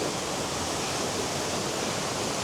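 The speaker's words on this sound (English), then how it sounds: "there it is, the waterfall up ahead" Coolalingo Waterfall in Wicklow, swollen after a storm, gives off a constant, full rushing roar of falling water, steady and unbroken throughout.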